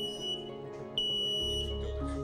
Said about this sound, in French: Elle y ajoute le détecteur de fumée.